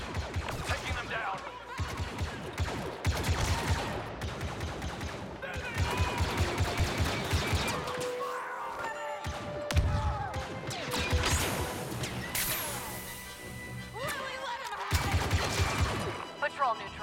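Gunfire in the shooter Star Wars Battlefront 2, rapid bursts of blaster fire and impacts in a loud battle scene, with shouted in-game voice lines and a stretch of orchestral music layered over the shooting.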